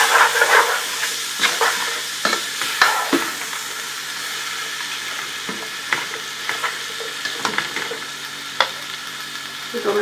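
Chopped vegetables with chilies and salt fry in a hot pan for Chinese chicken vegetable rice, giving a steady close sizzle broken by sharp scrapes and clicks of stirring.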